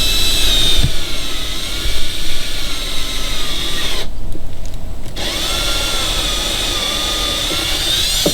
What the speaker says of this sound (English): I want to make sure that when I drill this hole that it's perpendicular and straight through